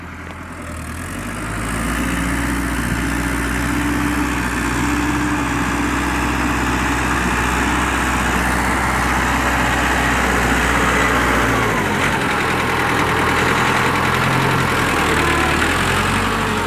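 A Ford 6600 tractor engine idles steadily and close, a loud continuous diesel rumble that holds even throughout, with no talk.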